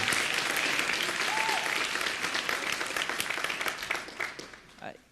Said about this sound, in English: There was a lot of applause in this room about overturning Citizens United.